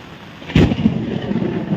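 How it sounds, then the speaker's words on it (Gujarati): A sharp thunder crack bursts out over steady heavy rain at a waterlogged four-way crossroads in the city, followed by a lower rolling rumble, all close and loud with no talking. "તમે સાંભળી શકો છો આ વીજળીના કડાકા."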